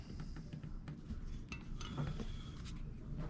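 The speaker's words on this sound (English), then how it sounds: "we're just supposed to spoon it out. Like this, put it in the bowl" A spoon scrapes and clinks against a cast-iron Dutch oven while peach cobbler is scooped into a bowl, giving soft, scattered metallic taps and knocks at close range.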